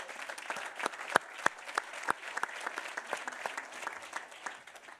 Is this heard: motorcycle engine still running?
no